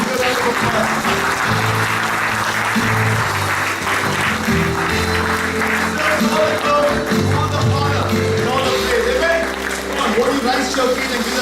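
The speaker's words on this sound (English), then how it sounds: "Give Him a bigger round of applause." A church audience claps continuously in a full, sustained round of applause. Music and voices mix in beneath the dense clapping.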